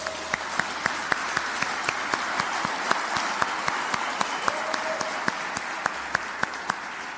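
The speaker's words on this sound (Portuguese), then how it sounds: "Dá uma salva de palmas para eles" An indoor audience gives steady applause throughout, with sharp individual claps standing out over a dense bed of clapping.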